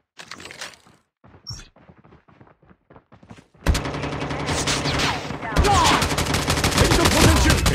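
Gunfire in the mobile game Call of Duty Mobile: sparse, quiet shots and clicks at first, then dense, loud automatic fire from about four seconds onward, continuing steadily to the end.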